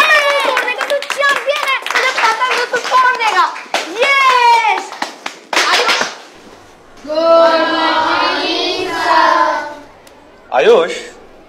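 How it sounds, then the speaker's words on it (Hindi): Children clapping in a school classroom, a burst of sharp claps mixed with loud, excited children's voices that carry on after the clapping stops. "आयुष तालियां बहुत हो गई"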